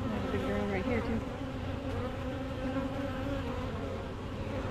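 Honey bees and drones drone steadily inside an open beehive during an inspection, a dense, continuous buzz close by that holds level throughout.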